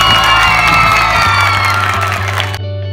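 A crowd at a women's football match claps and cheers loudly, a dense wash of applause and excited shouts that holds steady before cutting off abruptly.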